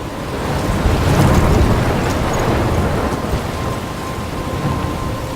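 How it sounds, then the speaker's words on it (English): A storm rolls through in the game Life is Strange, with heavy steady rain and a deep thunder rumble swelling early and slowly fading under the downpour, loud and enveloping with no talk. "I'm trapped in a storm?"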